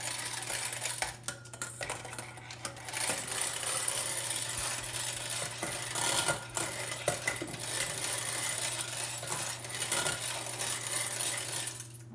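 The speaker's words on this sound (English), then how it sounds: "And then we're going to beat it again just to mix all of those together." A granola mixture with maple syrup, cinnamon and vanilla is beaten in a bowl, making a continuous close mechanical whirring with rapid rattling and clinking against the bowl, briefly pausing near the start.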